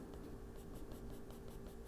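A colored pencil strokes back and forth across paper while an ink animal drawing of an American kestrel is filled in, a faint, close, rhythmic scratching with no voices.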